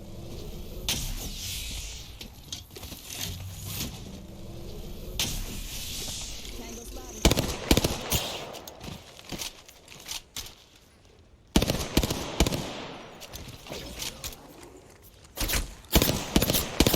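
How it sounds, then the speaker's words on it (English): Hemlock rifle fire crackles through a competitive video game fight, rapid bursts of shots in repeated clusters, some loud and close, others fainter, with a commentator's voice running underneath. "Shots are not connecting for Cybercats and Ranches here with the Hemlock."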